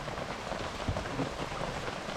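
Steady rain hissing on surfaces outdoors beside a foil-pan roast of a large mutton snapper, a constant close wash of drops with no talking.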